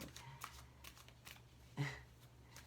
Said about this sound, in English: that's how I'm drawn to do my shuffling and drawing